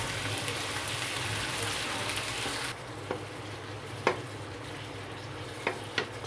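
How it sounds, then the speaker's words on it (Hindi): Keema made from chicken sizzles steadily in a frying pan while it is mixed, with a few sharp spoon taps and scrapes against the pan. The sound is soft and close, and nobody talks. "तो अच्छे से मिक्स करेंगे।"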